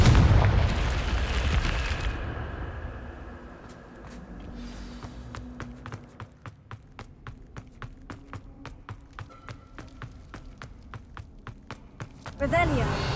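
Confringo fire spell in Hogwarts Legacy, a loud fiery explosion at the start that fades into a long run of regular sharp footstep-like clicks, then another burst at the end.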